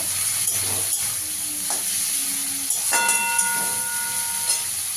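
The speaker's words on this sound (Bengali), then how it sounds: "চিংড়ি মাছটা একটু পেঁয়াজের সঙ্গে ভেজে নেব।" Shrimp frying with chopped onion in oil, a continuous loud sizzle with faint clinks and a brief tonal ring, with no voices.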